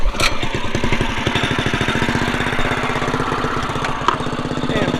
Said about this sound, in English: Let's go ahead and start it up.